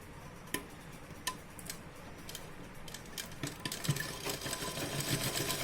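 A sewing machine stitches a long seam down the side of an A-line nighty, a steady mechanical whir with sharp clicks at the start that grows louder and more continuous toward the end.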